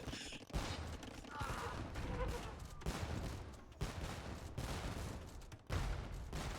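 Organ guns in an Age of Empires-style strategy match let loose rapid volleys of crackling battle fire, dense overlapping bursts that keep coming with brief gaps between them.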